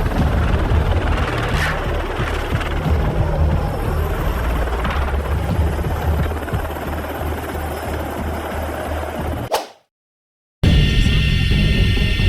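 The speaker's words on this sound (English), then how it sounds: "One rogue deck strap caused this helicopter to swing dangerously close to the crew member still on deck several times in a few seconds." A helicopter swings on a ship's deck after a loose deck strap, its rotor and engine roaring loud and steady for about nine seconds before a brief cut, then the roar resumes.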